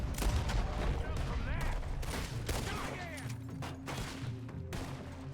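Gunfire in Red Dead Redemption 2 during a shootout near a gun store, a dense stream of overlapping shots and ricochets, loud at first and thinning out, with a voice talking over the action.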